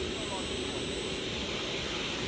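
Model jet aircraft with a Kingtech K320 turbine engine running at an outdoor model air show, a steady, fairly loud broadband jet roar with a constant high whine throughout.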